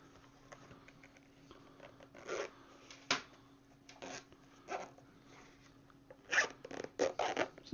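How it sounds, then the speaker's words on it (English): Zipper drawn shut on a shock-proof hard drive carrying case, a few short rasping pulls spaced apart then a quicker run of tugs at the end, close and fairly quiet. "Zip that up nicely"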